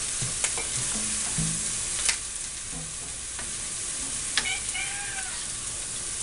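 Chile morita sauce boiling and bubbling in a pan, a steady close sizzling hiss with occasional clinks and small pops, no talking.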